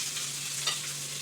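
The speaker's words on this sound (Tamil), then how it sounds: "உள்ளி கொஞ்சம் வதண்டு வைட்டோம்." Garlic sautés in a pan, a close, steady sizzle of frying with a brief stirring scrape partway through, alone without speech.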